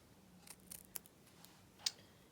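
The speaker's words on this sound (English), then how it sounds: "So now I'm going to take my ribbon scissors and trim that up." A few quick, soft snips of scissors cutting through ribbon, close by and brief, with quiet pauses between cuts.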